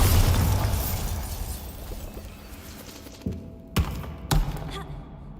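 A Bombarda explosion spell goes off in the Hogwarts video game: a heavy rumbling burst fades out, followed by two sharp, loud cracking impacts near the end.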